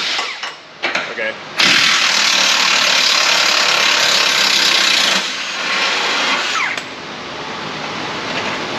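A cordless power tool on bolts of a bent Ford Transit frame, a loud close grinding whir running for several seconds after a few short bursts, then easing to a lower, steadier drone.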